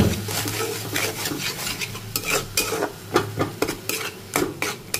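Masala for egg curry is stir-fried in a pan with a low sizzle, repeatedly scraped and clanked by a metal spatula in quick, irregular strokes, close and loud, with no one speaking.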